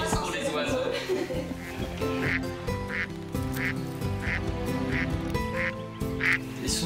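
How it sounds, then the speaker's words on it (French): Ducks quack in a garden, a repeated run of nasal calls at even spacing under steady French conversation and a dense background of other sound. "Donc tu as 13 canards dans le jardin ?"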